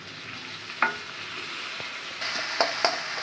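Chopped tomatoes dropped into a pan of frying sprouted horse gram, a soft steady sizzle with a few sharp clatters and stirring knocks, growing slightly louder as the tomatoes hit the hot oil, no talking.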